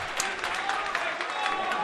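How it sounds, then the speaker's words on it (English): Crowd applause at the 2017 CIF Central Section high school wrestling championship finals: a steady, fairly faint wash of clapping from the arena stands, heard alone without talk. "You hear the applause"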